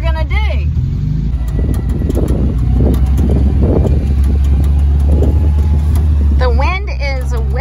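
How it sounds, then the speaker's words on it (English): Strong wind whips across an open farm, a loud continuous low roar buffeting the microphone, with a voice talking over it throughout. "The wind is whipping."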